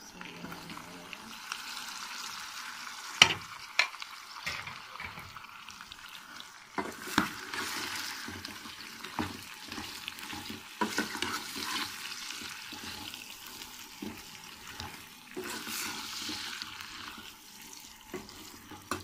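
Tomato and dried coriander frying in a pan for a liver curry, a soft steady sizzle with sporadic utensil clinks and scraping, fairly quiet overall.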